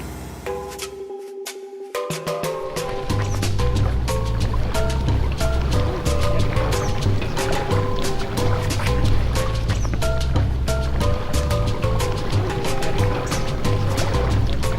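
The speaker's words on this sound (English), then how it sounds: "I'm in an amphibious hobby car and I'm on the water" A 1994 Hobby B602 amphibious car moving on water: a steady low engine drone with rhythmic pulsing and water slapping against the hull, starting quieter and then settling into a loud, continuous run.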